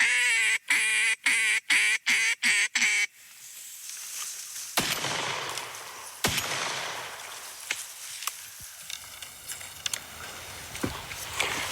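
A rapid run of about seven loud, nasal duck quacks from a duck call imitating several ducks during a duck hunt in Quebec, then rustling and scattered sharp knocks and clatter in the background.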